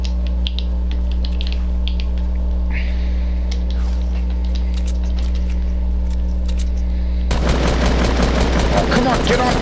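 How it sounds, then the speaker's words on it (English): Gunfire in the Fortnite video game, with scattered shots over a constant electrical hum, then a dense, rapid burst of automatic fire crackling loudly through the last couple of seconds. "he's shooting at me, obviously"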